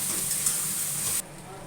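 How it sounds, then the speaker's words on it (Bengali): Spice masala with salt and turmeric sautéing in hot oil for a potato and rohu fish curry, a steady close hiss and sizzle that cuts off abruptly partway through, leaving a quieter background. "এই মশলাটা কষিয়ে নেবো ভালো করে"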